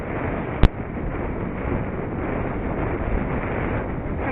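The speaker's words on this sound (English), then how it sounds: "A bit windy on this part of the track." Gusting wind buffets the microphone on an outdoor dog training track, a loud steady roar with one sharp bump near the start and no voices.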